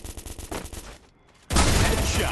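Pistol fire in the game Free Fire: a quick string of sharp shots, a brief lull, then a louder burst of firing.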